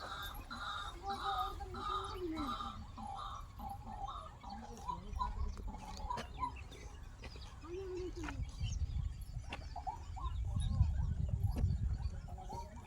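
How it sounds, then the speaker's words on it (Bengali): Birds call repeatedly at Sultanpur wetland, a mix of clucking, cooing and rhythmic chirps at moderate distance, with rustling and wind-like noise swelling toward the end. "পাখিদের আওয়াজগুলো শুনতেই এত ভালো লাগছিল"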